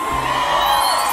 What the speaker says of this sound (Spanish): ¡Mejor una bulla para Rosy!